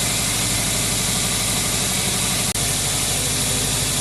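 A Subaru EJ engine idling steadily on fresh water during a cooling system flush, with a low, even rumble and vibration, close and continuous, with a brief click partway through.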